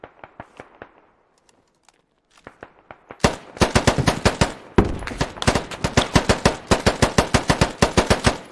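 Gunfire in the military shooter game Squad: scattered single shots give way to dense, rapid automatic bursts that rattle on loudly and close.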